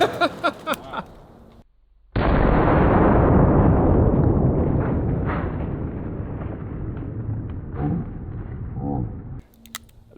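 A single booming shot from a .500 Magnum revolver hits a pineapple target outdoors, with a loud, sustained blast and rolling echo that follows a few short thumps beforehand.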